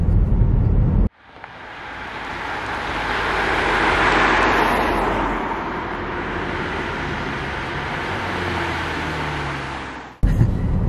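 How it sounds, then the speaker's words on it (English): Steady broadband road noise rumbles inside the cabin of a 2019 Mazda 3 while driving, a low, even hum and hiss holding for about nine seconds with no talking. "So they did quiet it down in the cabin. There's less road noise"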